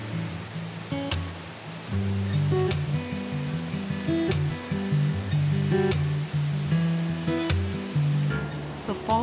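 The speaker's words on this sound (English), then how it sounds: "the power of the rushing water grows with every step" Rushing water of a waterfall in town at Skagway, Alaska, a loud continuous roar with uneven surges and some overlying tonal sounds, heard up close.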